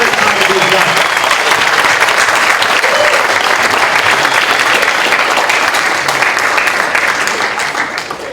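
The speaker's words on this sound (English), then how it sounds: "Give them another round of applause." A crowd of family and friends at a high school signing day applauds steadily. The clapping is loud, dense and continuous and tapers slightly at the end, with faint voices mixed in.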